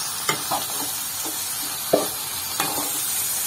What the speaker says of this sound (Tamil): சிக்கன் நல்லா வதங்கினதுக்கப்புறம் நம்ம அரைச்சி வச்ச இந்த தக்காளி மசாலாவை போட்டுருவோம்.